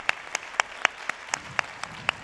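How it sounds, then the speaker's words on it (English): Applause breaks out at a high school graduation ceremony, Jose A. Valdez High School's Victory Night, as a short round of scattered individual claps with sharp, distinct hits rather than a dense roar, moderately loud and without talk. "Round of applause."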